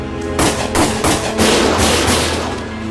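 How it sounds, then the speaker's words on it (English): Gunfire from the Valkyria Chronicles video game, a loud series of heavy booming shots about every third of a second, blending into a dense, rolling battlefield roar. "Gunfire!"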